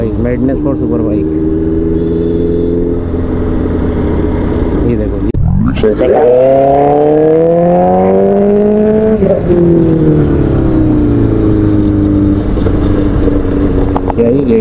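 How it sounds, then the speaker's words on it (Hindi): A superbike revs on an open road, its loud engine drone holding steady, dipping briefly, then climbing through several rising rev sweeps before easing off, with voices faintly underneath. "ये देखो guys madness for super bike"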